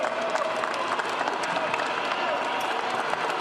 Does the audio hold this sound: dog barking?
no